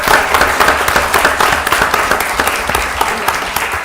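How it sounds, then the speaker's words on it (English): An audience at a city council meeting gives a round of applause, brisk, loud clapping throughout the short stretch. "Let's give these young ladies a round of applause."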